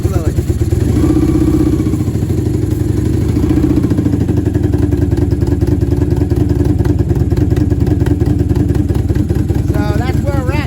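A 1987 Honda Super Magna motorcycle engine runs on starting fluid with the choke on, a loud, steady close-up idle with rough pulsing and mechanical clatter throughout.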